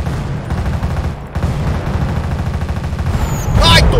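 Sustained gunfire in a GTA V gang war, a dense roar of rapid shots that fits a minigun, with a louder burst near the end and voices faintly underneath.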